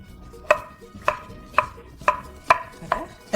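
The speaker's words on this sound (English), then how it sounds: "I actually cut it like this at an angle into slices." A knife slices a cucumber at an angle on a cutting board for Indonesian acar, giving seven crisp, evenly spaced chops with no talking.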